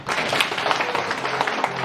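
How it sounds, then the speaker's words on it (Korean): An audience claps and applauds to welcome guests onto the stage at a public radio broadcast, a dense, steady patter of many hands close by, with no talk over it. "큰 박수로 모실까요?"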